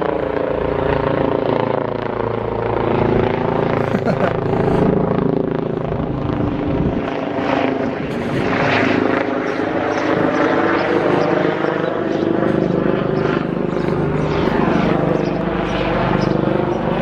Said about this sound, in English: You can certainly see the chopper now